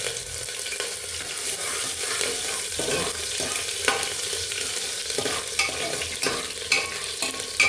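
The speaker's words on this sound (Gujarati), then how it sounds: "જ્યારે જીરાનો કલર બદલવા માંડે ત્યારે આપણે આમાં નાખીશું કાપેલા મરચાં" Chopped chillies sizzle in hot oil with cumin while making Kathiyawadi masala khichdi, a bright, continuous frying hiss with scattered crackles and stirring clicks, close and without talk.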